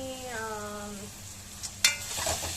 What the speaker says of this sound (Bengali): পেঁয়াজ টমেটোটা ভেজে নিয়েছি, দেখো